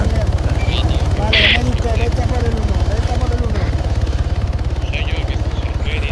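An ArmA 3 helicopter thrums with a steady, loud, rhythmic rotor chop throughout, close overhead, while someone talks over it.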